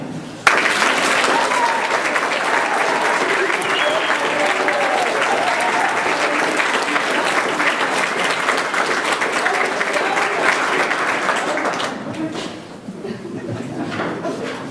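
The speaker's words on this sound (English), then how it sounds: "to keep on clapping really enthusiastically until I put it down again" An audience claps enthusiastically and steadily for about twelve seconds, a dense loud wash of many hands, then breaks off abruptly into quieter room sound with a little talk.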